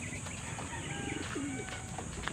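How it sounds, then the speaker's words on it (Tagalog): Young pigeons coo softly up close in short, low, throaty calls, mixed with small chirps and a faint flutter of wings. "mga inakay pa lang to, mababait pa lang ang mga kalapati dito"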